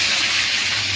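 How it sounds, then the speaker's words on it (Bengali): Potato pieces hit hot oil tempered with cumin seeds and give a loud, steady, close hiss of frying that fills the whole moment. "তেল দিয়ে দিলাম, জিরে ফোড়ন দিলাম, আর এবার আলুটা দিয়ে দিলাম।"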